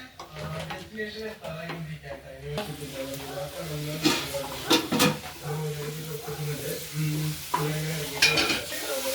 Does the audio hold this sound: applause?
no